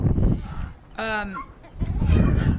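Chickens and roosters cluck and squawk in agitation, with one sharp, drawn-out cry standing out above a noisy, close-up background.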